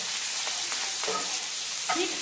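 Whole cumin seeds crackling in hot oil for dhaba-style tadka dal, a quiet steady sizzle with a few faint stirring taps.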